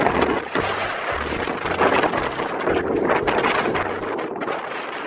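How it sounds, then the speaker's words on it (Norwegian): Strong wind of around 30 knots roars across a sailboat at anchor, a loud, steady buffeting rush with gusty surges and low rumbles throughout. "Nå blåser det godt."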